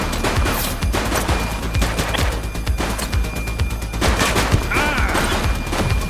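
Police shootout in The Precinct during a bank robbery: loud sustained gunfire with many overlapping sharp shots and crashes over a steady noisy background, no pauses for several seconds.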